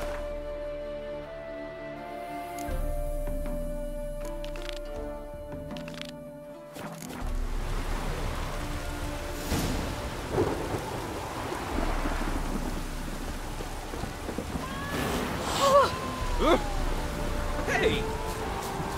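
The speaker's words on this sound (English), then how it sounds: "The storm, damn it." Thunderstorm in The Witcher 3: Wild Hunt, with rain hissing steadily and deep rolling thunder rumbling close and loud, while music and game tones sound in the opening seconds before the downpour takes over.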